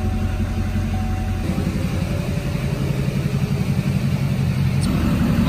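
Two trucks, one a Duramax diesel, idle side by side nearby, giving a steady, continuous low engine rumble with no revving throughout.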